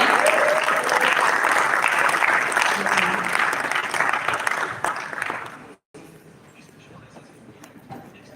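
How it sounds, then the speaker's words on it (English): A conference audience at a tech event applauds and cheers in dense, loud clapping that fades out after about five seconds, followed by a quieter room with faint sounds. "A round of applause for Daniel Chukura."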